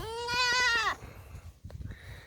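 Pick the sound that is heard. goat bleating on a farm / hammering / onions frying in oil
goat bleating on a farm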